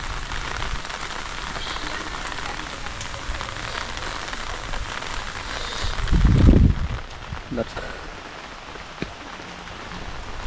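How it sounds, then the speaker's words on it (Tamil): Heavy rain falls steadily, a dense even hiss that lasts throughout, with a brief louder low thump near the middle and faint voices under the downpour. "ஜம்முன்னு மழை விழுகுது"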